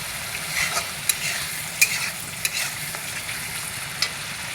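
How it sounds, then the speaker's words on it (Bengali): Fish curry with onion paste being sautéed in a pan, a steady low frying sizzle with stirring scrapes and a few sharp clinks of a spoon against the pan, alone with no voices. "আবারও 5 মিনিট কষানো হবে।"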